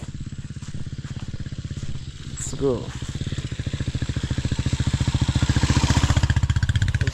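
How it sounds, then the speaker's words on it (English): A motorbike on a road in Tanzania runs close by, its engine chugging in a steady rhythmic putter that grows louder toward the end, while someone speaks briefly over it. "I see a guy here with a motorbike."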